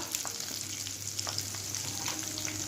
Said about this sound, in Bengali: এখানে তেল গরম হয়ে গেছে আমি গোটা গরম মশলা একটা শুকনো লঙ্কা